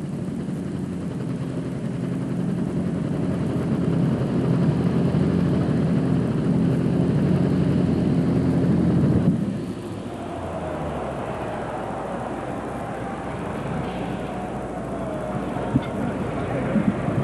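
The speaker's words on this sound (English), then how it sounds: "That's definitely a hot engine, man." A 1991 NFMS 10,500-pound super stock pulling tractor engine roars steadily and loud, dropping abruptly partway through to a lower, rougher idle with faint crowd noise around it.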